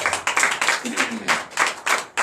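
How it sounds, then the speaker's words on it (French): Crowd clapping in bursts during a night deliverance church service in Comè, Benin, loud near claps arriving in uneven surges while a voice carries on over them. "que je vous demande encore d'applaudir très fort"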